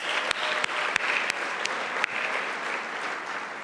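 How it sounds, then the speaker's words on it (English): A gala audience in New York gives a big round of applause, a dense, sustained roar of many hands with a few sharp louder claps standing out. "Please, a big round of applause."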